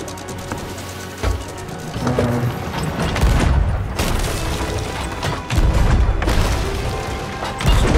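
Cannon fire against a galleon in Sea of Thieves: loud booming blasts and crashing wooden impacts tumble over one another almost continuously, with splintering debris and heavy rumble throughout.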